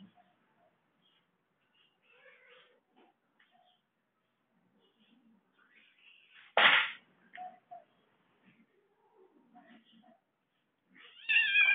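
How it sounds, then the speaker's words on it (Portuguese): A cat yowls in sharp, loud bursts while play-fighting with a dog, with quieter scuffling and faint sounds between the cries. "o gato gritando de dor"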